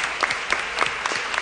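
Church congregation clapping together in a steady burst of applause, close and moderately loud with uneven hand claps, no voices standing out.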